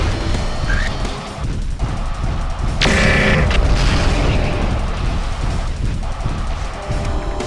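Enemy mech destroyed in MechWarrior 4: Mercenaries, a heavy booming explosion with a sharp crackling burst in the middle, set over continuous rumbling battle noise and mechanical hum.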